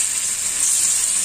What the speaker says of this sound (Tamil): ஒரு மீனை மட்டும் நம்ம வந்து இப்போ நம்ம உள்ளே போடலாம். எப்படி பொரியுதுன்னு பார்ப்போம்.